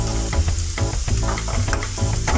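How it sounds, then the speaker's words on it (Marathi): Onions browning to a golden color in a pan for a potato bhaji, with a loud, close, continuous sizzle and rhythmic stirring strokes repeating roughly every half second, alone without speech. "आता आपला कांदा परतून होत आलेला आहे"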